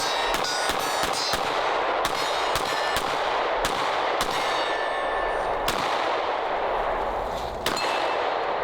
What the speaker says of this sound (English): I'll fire this mag, and then I'll kind of reserve my opinion.